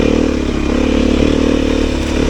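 Loud, continuous engine roar from a Beta 500 RS dirt bike being ridden along an overgrown trail, close up with steady throttle and some clattering over rough ground.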